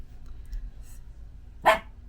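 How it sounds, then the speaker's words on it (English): A single sharp dog bark rings out at a moderate distance after a quiet stretch of low background hum. "Not my dog barking."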